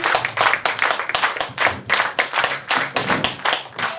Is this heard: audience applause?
yes